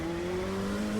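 An LMP2 race car engine on cold tyres in iRacing drones steadily and close, its pitch rising slightly as the car builds revs over about a second.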